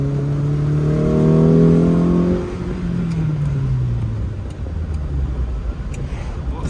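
A Lotus Elan restomod engine revs at quarter throttle, a strong harmonic drone that holds steady, then drops in pitch as the revs fall away into a lower rumble, heard close and loud from inside the car.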